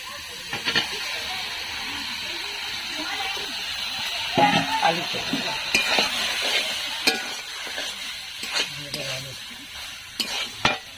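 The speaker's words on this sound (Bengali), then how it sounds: "এবার দিয়ে দেবো ওর মধ্যে মাংস" Meat is tipped into spice masala already cooked down in oil and stirred, giving a steady sizzling hiss with scraping spoon knocks and clatters while a person talks.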